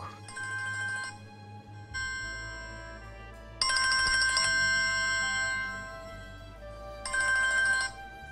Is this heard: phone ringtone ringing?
yes